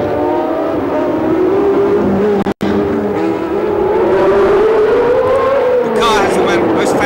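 A V12 racing car engine at the 1976 United States Grand Prix West wails at high pitch, rising and falling as it works through gears, loud and close, with a commentator talking over it.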